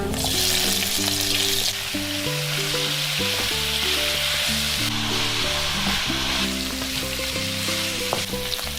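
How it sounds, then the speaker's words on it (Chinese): Beef brisket with ginger and garlic stir-frying in hot oil in a wok, a loud continuous sizzle with tossing and scraping throughout, no voices. "锅里油热了，把姜跟蒜放下去炒香，接着把牛腩放下来炒香"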